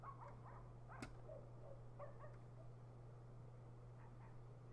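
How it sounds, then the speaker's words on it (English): A stray dog on a Sims 2 house lot gives a few scattered, faint barks and yips over a steady low hum, with no voices. "There's a stray dog on our lot."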